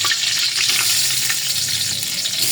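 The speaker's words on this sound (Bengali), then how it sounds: "দেখেন দিয়ে চালটা ভালোভাবে একটু ভেজে নিতে হবে।" Rice fries with cardamom and cinnamon in a pot, a loud, steady, dense sizzle with stirring scrapes running throughout, close and unbroken.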